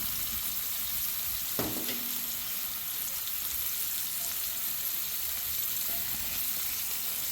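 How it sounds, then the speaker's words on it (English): Food searing and steaming on a Member's Mark Pro Series 5-burner griddle gives off a continuous broad sizzle, steady and close, with a single light scrape of a utensil partway through. "it's not only is it searing, but it's also steaming"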